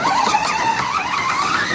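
A Slot.it SP43 digital slot car running on track with its pinion not meshing properly against the gear, giving a continuous close, loud whirring grind with a wavering pitch.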